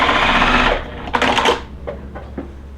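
A sewing machine stitching quilt block pieces, a loud close run of rapid mechanical whirring that stops partway, followed by a few short clicks and knocks as the fabric is handled.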